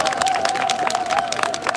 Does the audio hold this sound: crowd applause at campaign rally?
yes